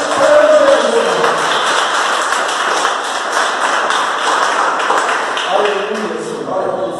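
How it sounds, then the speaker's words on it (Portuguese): A church congregation applauds with continuous dense clapping that stays loud and even throughout, a crowd filling the room, with faint voices mixed in. "Se você pode aplaudir a Jesus, aplauda."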